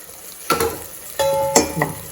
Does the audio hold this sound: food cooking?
yes